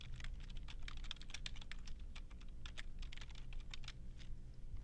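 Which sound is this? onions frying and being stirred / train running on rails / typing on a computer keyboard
typing on a computer keyboard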